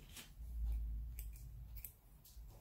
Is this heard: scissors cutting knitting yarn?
yes